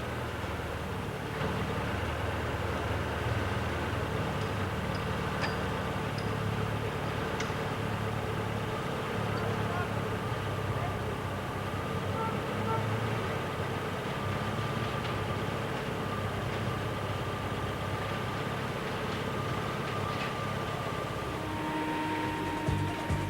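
A Fiat car's engine idles steadily under the bonnet during a dealer's pre-delivery inspection, giving a constant, even hum with no change in pace and no voices.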